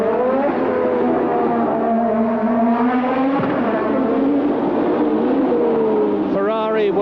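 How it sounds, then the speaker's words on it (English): A 1982 Long Beach Formula One race car engine roars loudly and continuously, its pitch sweeping up and down as it accelerates and lifts onto the overrun, with a brief sharp dip midway and rapid revving bursts near the end. "You see the flames punching out of the exhaust pipes as he goes over onto the overrun"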